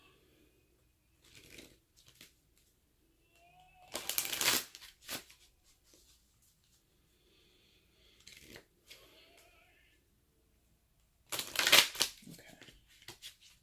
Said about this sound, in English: we're going to give it a quick shuffle